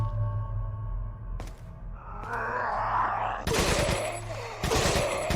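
TMP submachine gun fire in Resident Evil 4, two loud sustained bursts of rapid automatic shots near the end, preceded by game ambience with a low hum and scattered impacts.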